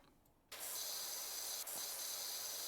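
The pressure washer in the PowerWash Simulator video game starts abruptly, then sprays as a loud, steady hiss with one brief dip partway through and no talking.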